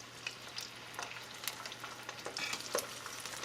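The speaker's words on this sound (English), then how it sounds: "Now we're ready for our second fry session here." Breaded chicken pieces frying in hot oil for a second fry give off a steady crackling sizzle with scattered sharp pops and occasional stirring clinks, close and moderately quiet.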